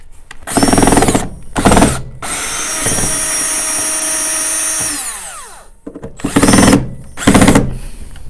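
A power drill whines in several loud bursts while backing stubborn screws out of a mini fridge, with a long steady run in the middle that winds down, then more short spins.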